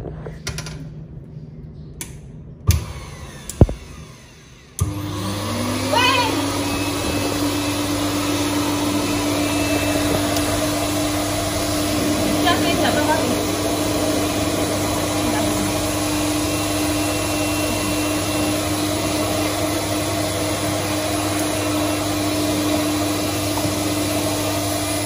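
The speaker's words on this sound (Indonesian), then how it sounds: "Sekarang aku lagi proses mengeringkan Fin ya guys ya. Jadi agak berisik" A blow dryer drying a pet starts up after a few clunks and runs with a steady loud whine and hum, with faint rustling and creaks underneath.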